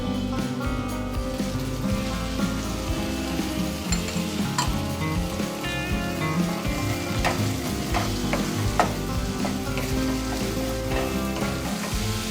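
Green chilli paste sizzles and fries steadily in a pan while a spoon stirs it, with repeated scraping clicks against the metal over a constant crackle.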